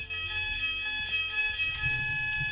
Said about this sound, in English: Well done, fire alarm.